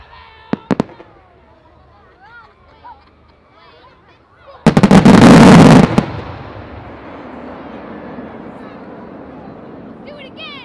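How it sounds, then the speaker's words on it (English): Faint firework crackles and a few sharp pops, then a shell's massive, deafening maroon bang that rolls into a long echoing rumble across the Oxfordshire countryside at the Abingdon Firework Festival, with crowd voices. "a double or triple ring of effects followed by a loud maroon, which is the bottom shot"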